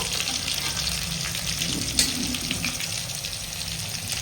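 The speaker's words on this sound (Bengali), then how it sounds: "একটু জল দেবো বন্ধুরা, মশলাটা একটু শুকনো টাইপের হয়ে গেছে" Water pours into a pan of dry spice masala for a Bengali koi fish curry with raw banana and potato, a steady close gush with a brief splash near the middle and no talk.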